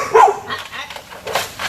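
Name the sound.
dog barking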